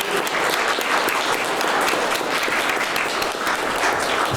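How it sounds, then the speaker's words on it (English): An audience at a youth poet laureate finals in Milwaukee applauds a young poet, sustained dense clapping from a full crowd that stays loud and even from start to finish. "One more round of applause for Aleena."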